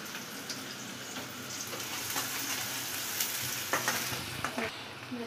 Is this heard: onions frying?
yes